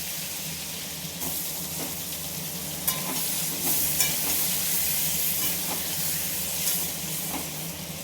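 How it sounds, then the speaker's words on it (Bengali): Potatoes fry in hot oil with a steady, close hiss and sizzle, punctuated by a few soft clicks and stirring scrapes, no talking. "এইবার এর তেলের মধ্যে আমি আলুগুলো ভেজে নেব।"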